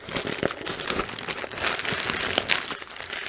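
Bubble wrap around a diamond painting kit crinkles and crackles as it is unwrapped, a dense, continuous rustling with sharp pops, close and fairly loud.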